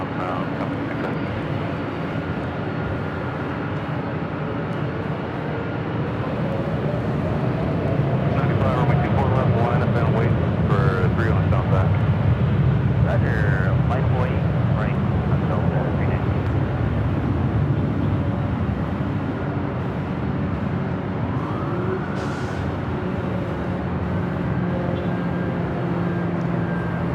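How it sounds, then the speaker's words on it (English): An Aeromexico Boeing 787 Dreamliner rolls down a runway at Los Angeles airport, a broad jet rumble swelling in the middle and easing off, with a distant engine whine and voices over it. "Mexico Dreamliner rolling down to 25 right on the south side"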